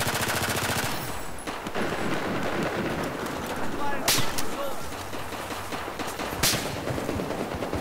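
Rapid machine-gun fire in Battlefield 4, loud and continuous with sharp individual cracks standing out, while a voice talks over the shooting.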